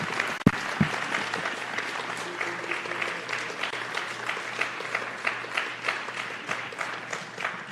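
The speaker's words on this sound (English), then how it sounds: "Audience, please applaud for these candidates." An audience at a city council candidate forum in a recreation center room claps for the candidates, a moderately distant, sustained round of applause with a soft pulsing rhythm that slowly settles.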